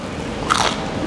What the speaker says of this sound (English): This is incredibly crunchy.